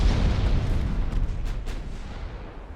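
Ship ammunition blowing up in the naval video game Ultimate Admiral Dreadnoughts, a heavy booming explosion with a deep rumbling tail that slowly fades.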